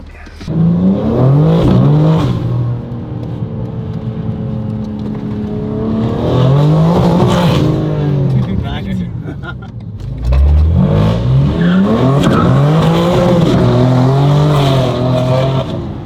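A BMW M4 is driven hard, its engine revving up and down in loud, repeated surges with brief easing between pulls, and voices talking over the noise.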